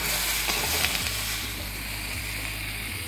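Crab sizzles in a hot pan as it is stirred: a close, continuous hiss with a few utensil scrapes at the start, over a low steady hum.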